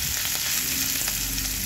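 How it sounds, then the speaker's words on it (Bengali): A paste of ground dried chilli, ginger and cumin frying in hot mustard oil makes a dense, loud, continuous sizzle up close. "সর্ষের তেলের মধ্যে বাটা মশলাটা দিয়ে দিয়েছি"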